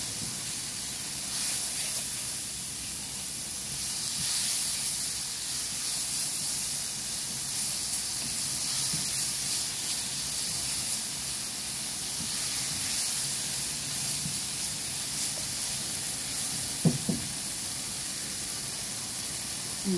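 Shrimp stir-fried with pepper in a pan for sautéed cucumber gives a steady, fairly loud hiss of sizzling that runs the whole time, with a few small clinks near the end.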